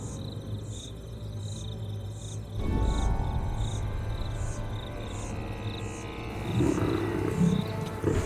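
A deep lion roar rumbles out over a steady chorus of chirping insects, with a second swell of roaring toward the end.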